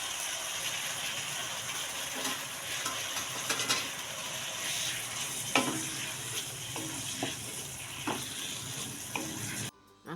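Fried beef lung being stirred in a pan of sambal goreng: steady oil sizzle with scattered scraping clicks of a spoon against the pan, close and continuous, ending abruptly.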